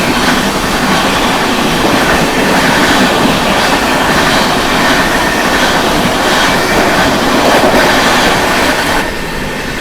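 The Sealdah Rajdhani Express crosses alongside, a loud, continuous roar of rushing wheels and rattling carriages close by, with steady clatter throughout.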